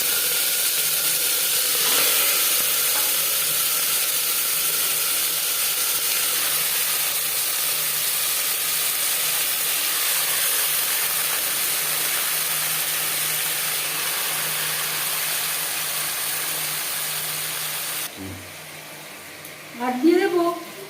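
Marinated mutton fries in hot mustard oil with a loud, continuous close sizzle and hiss that shifts near the end to brief clatter and scraping in the pan.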